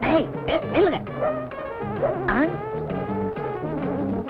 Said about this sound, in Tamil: ஏதோ பெரிய நாய் போல் இருக்கு